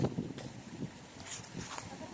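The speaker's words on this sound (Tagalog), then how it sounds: "Malakas na ang hangin dito." Gusty wind buffets the microphone, a steady low rumble with broadband rushing, while faint voices talk in the background.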